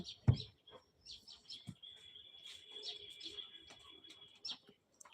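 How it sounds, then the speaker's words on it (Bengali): An Asian koel calls among a scatter of high, quick bird chirps and tweets, repeated at an uneven pace against a quiet outdoor background. "দুষ্টু কোকিল ডাকছে"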